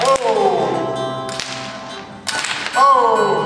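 Sharp whip cracks at an evening equestrian show, a few loud snaps with brief whooshing swings between them, set against crowd noise and background music.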